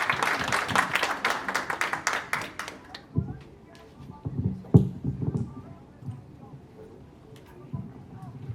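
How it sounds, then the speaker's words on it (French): Applause from a political party gathering in Washington DC, a few seconds of lively clapping that thins into scattered claps, with murmuring voices and a few sharp knocks underneath. "Je voudrais qu'on l'applaudisse."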